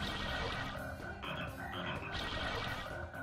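Croaking frog in a fantasy video game, a loud, rasping, warbling croak repeated in a few swelling bursts over three seconds, heard alone without talk.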